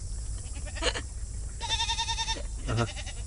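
Goats bleat a few times on a farm, one drawn-out wavering call standing out from shorter ones, over steady background noise.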